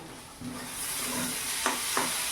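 Malabar spinach stems frying with potato and onion in a home kitchen pan, a soft continuous sizzle with a few light scraping stirs near the end, fairly quiet and without talk.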